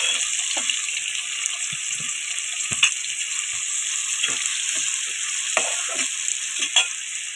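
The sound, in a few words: onions and green chillies frying in oil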